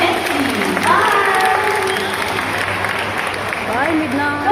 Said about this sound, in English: let's give another round of applause to Midnight, the Malayfish Owl